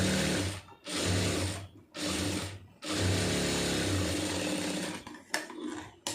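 A sewing machine runs in steady mechanical bursts, stitching a garment all the way around. Three or four long runs of rapid whirring are separated by short pauses, and a few light clicks are heard near the end, with no voices.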